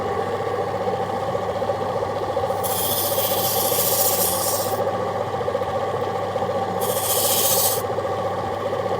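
A new opal cutting machine runs with a constant motor hum while a stone is ground against it, two bursts of loud, hissing rasp rising over the drone and then easing off, with no talk.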